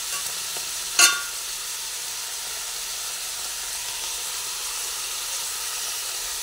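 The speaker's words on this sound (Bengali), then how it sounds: "পেঁয়াজটা ভেজে নিচ্ছি।" Onions frying in a pan over a high flame with turmeric powder, giving a steady, close hiss of sizzling with a single sharp clink early on.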